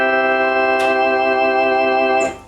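Hammond organ played without a Leslie speaker using its built-in vibrato setting, a loud sustained chord held steadily for about two seconds with a wavering tone before it is released, with no talking.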